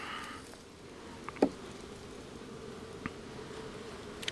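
Honeybees around an opened hive during a slow frame inspection with smoke in use, a faint steady buzz with occasional louder passing insects and small clicks, no talking.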